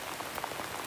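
Rain falling outside makes a brief, soft, even hiss of drops on a surface, faint and steady without any voices.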